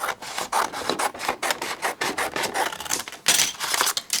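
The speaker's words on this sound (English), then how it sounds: "I'm gonna trim it this way real quick. This is just some heavy-duty white cardstock." Heavy-duty white cardstock is trimmed for a shaped easel card with a series of quick, close, rasping strokes, like a blade gliding through thick paper, with short pauses between them and no talking.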